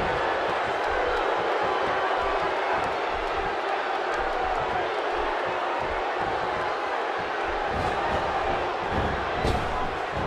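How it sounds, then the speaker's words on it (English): Wrestling arena crowd at WWE Battleground during the Seth Rollins vs Ryback match, a dense, sustained roar of cheering and shouting that fills the whole stretch, with a commentator talking over it. "by the sound of this crowd, I think they're getting what they wanted"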